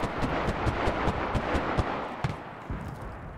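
Gunfire in the World War II shooter Enlisted crackles as a rapid series of sharp irregular shots over a dense din of battle noise, some near and loud, others more distant.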